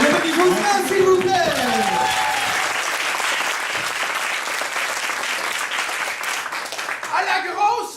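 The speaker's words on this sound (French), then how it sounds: "On applaudit Jocelyn, s'il vous plaît." An audience at a France–Québec match gives Jocelyn a sustained round of applause: thick, continuous clapping with scattered voices and whoops mixed in, tapering at the very end.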